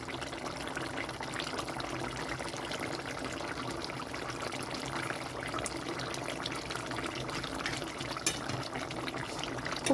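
A pot of catla fish curry with papaya and potato boils steadily on a gas flame, giving a continuous, even bubbling and hissing simmer throughout, close and fairly loud with no talking.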